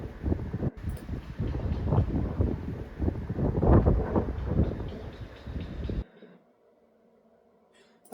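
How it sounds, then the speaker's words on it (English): Outdoor wind buffeting a microphone, a rough, rumbling roar with gusting swells that lasts about six seconds, then cuts out to near silence. "I mean, the wind is there. You can hear it."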